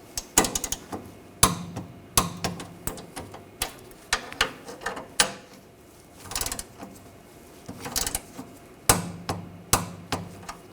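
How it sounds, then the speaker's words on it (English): A torque wrench tightens the rear control arm bolts on a 2011-2018 Volkswagen Jetta, giving close, sharp ratcheting clicks and metallic knocks in irregular bursts with quiet gaps between them and no talking. "I'm going to torque these bolts to 30 foot-pounds"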